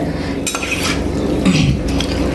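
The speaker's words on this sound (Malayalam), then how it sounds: "ഒന്ന് മിക്സ് ചെയ്തിട്ട് നമുക്ക് മൂടി വെച്ച് വേവിച്ചെടുക്കാം." Spoon scraping and clinking against a pot as Kerala-style country chicken varattiyathu is stirred, busy continuous metallic scrapes close up with no voices.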